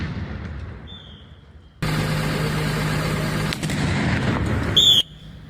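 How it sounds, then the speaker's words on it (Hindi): A defused IED is detonated on a highway, bursting into a sudden loud, sustained roaring blast that rumbles for several seconds, with a brief sharper crack partway through before cutting off abruptly. "जब इस आईडी को डिफ्यूज किया गया तो कितना बड़ा धमाका हुआ।"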